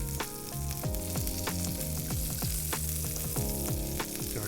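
A salmon fillet fries skin side down in a butter and oil mix, crackling and popping loudly and continuously with dense close sizzle and no voices.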